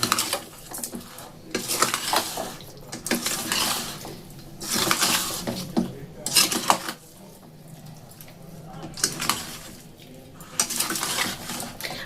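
Chana and paneer being stirred and mixed in a pot for a handi malai curry, with repeated scraping and clattering of a utensil against the pot in uneven bursts, fairly close, with no talking.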